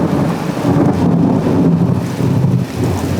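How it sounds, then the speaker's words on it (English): Heavy downpour in a thunderstorm near a medieval fortress in Smederevo, Serbia, with a steady dense roar of rain, low rumbling thunder and gusts of wind buffeting the microphone. "It is lightning, it is raining like crazy. We've got a real downpour going right now."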